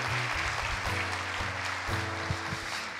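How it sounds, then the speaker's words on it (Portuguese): Church congregation at an evangelical worship service claps steadily while sustained keyboard or organ tones and low notes ring underneath, the clapping moderately loud and continuous. "aplauda ao Senhor Jesus"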